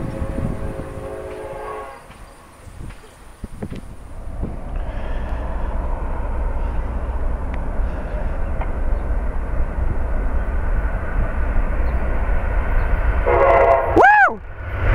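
An Amtrak Northeast Regional train rumbles past at Norwood, a loud rolling roar building and holding, with a sweeping horn blast near the end.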